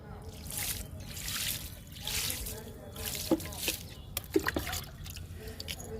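Liquid is poured onto mint plants growing in a tub, a soft trickle and splashing with a few sharp drips close by, mixed with faint outdoor ambience.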